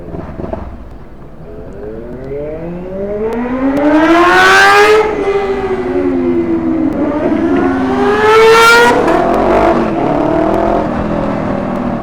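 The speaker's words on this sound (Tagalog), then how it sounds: "Siga yung tunog sa low RPM eh." A sport motorcycle on a night group ride along a mountain road revs at low RPM, its engine note swelling in two rising sweeps, loud and close with a steady rumble in between.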